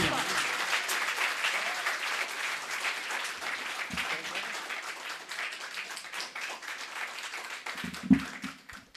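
Audience applauding at an Urdu poetry mushaira in Khushab, a steady wash of clapping from a seated crowd that stays fairly even throughout, with a brief louder swell near the end.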